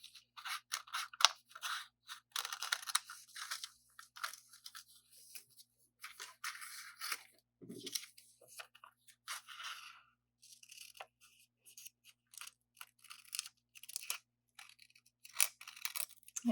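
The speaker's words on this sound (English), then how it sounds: "you can also ask an older sibling or a parent to help you cut it out" Scissors cut out a paper design in a quiet room, crisp snipping and crunching paper in irregular short runs, close and faint, with no voices.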